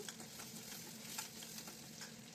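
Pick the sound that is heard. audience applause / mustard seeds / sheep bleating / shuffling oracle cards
mustard seeds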